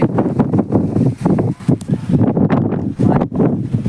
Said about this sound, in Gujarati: તમે જોઈ શકો છો કેવો બધો પવન હે